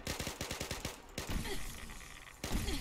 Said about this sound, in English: if you fire it on too low of an angle, it'll explode